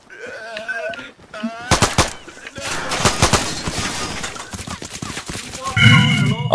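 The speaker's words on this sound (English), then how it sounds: "don't let me shoot you in the leg" Rapid bursts of gunfire in the military shooter game Arma 3, loud and close, with sharp cracks, rattling volleys and shattering impacts, while players talk over the action.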